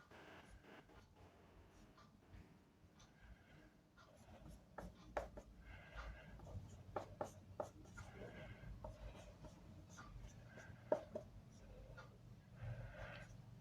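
Pen scratching across paper during a 7th-class rational numbers lesson, steady soft strokes with louder bursts in the latter half, close and quiet with faint room noise.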